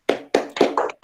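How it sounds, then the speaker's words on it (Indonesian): A classroom of students doing a rhythmic spirit clap in a school lesson: five sharp bursts of unison hand claps in quick succession, loud and close, with no talking. "Coba kita tepuk semangat dulu ya."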